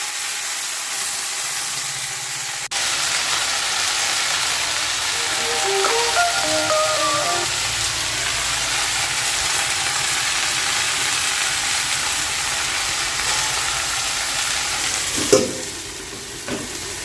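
Peanuts frying in a pan before greens with poppy seeds go in: a loud, steady hissing sizzle starts suddenly and runs on evenly, with a clunk near the end.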